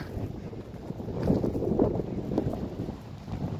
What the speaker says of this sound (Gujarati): પવન તો ફૂલ છે, ફૂલ એટલે તમે ઉભા રહ્યો એટલે તમને એમ લાગે કે હમણાં ઉડી જઈએ